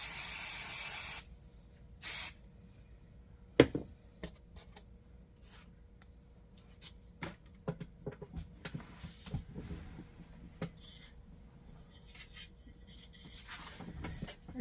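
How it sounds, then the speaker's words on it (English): An aerosol can hisses in a short burst, followed by another brief spray, then scattered knocks and rustling clutter nearby. "So I'm going to spray this again."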